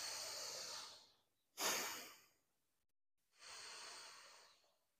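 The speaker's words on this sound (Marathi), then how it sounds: "श्वास घ्यायचा आणि बाहेर सोडायचा" Slow yoga breathing, heard close and quiet: a long airy breath, then a sharp, forceful exhale tapering off, a silent pause, and another drawn-out breath, with no talking.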